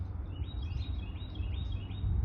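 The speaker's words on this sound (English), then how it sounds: "listening to my favorite bird chirping away in some tree" High, thin bird chirps repeat faintly over a steady low outdoor rumble, sounding some distance away.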